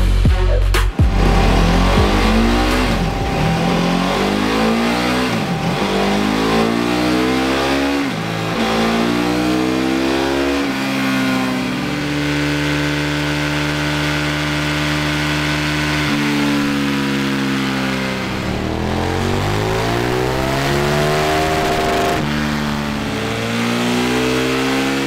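A KTM 990 SMT motorcycle engine revs hard on a dyno, pitch sweeping repeatedly up and down through the gears in a loud, continuous, close roar with no speech.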